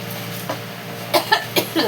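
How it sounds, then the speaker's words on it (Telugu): Someone grinding green gram and frying pungent chillies in a home kitchen gives a few short, harsh coughs in quick succession near the end, above steady background noise. The room is otherwise quiet. "అబ్బా దగ్గు వస్తుంది."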